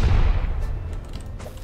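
A satchel charge in Rust explodes with a loud, deep boom at the start, then a rumbling decay with scattered crackling debris.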